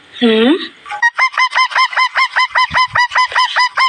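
A parrot squawks in a Tamil radio drama, starting with one rising screech and then a fast, even run of about a dozen loud, nasal squawks, close and with nothing else heard.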